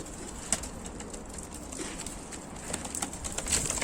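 Pigeons coo softly during a morning feeding, with faint scattered calls and light rustling or wing movement nearby over a low, steady background.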